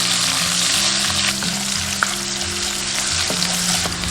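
Aromatics stir-frying loudly in a wok in rendered pork fat, a dense continuous sizzle close up with a single sharp clink partway through.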